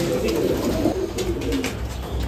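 A pigeon coos in a small cage, a low soft murmuring run of calls close by, steady throughout with faint background noise.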